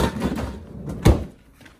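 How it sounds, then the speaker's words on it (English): A freezer drawer on a Samsung RF series refrigerator freezer is lifted at the back and pulled out, giving a sharp plastic knock and slide about midway, with softer rattles before and after. "All you need to do is to lift the back portion up and then the whole drawer is coming out."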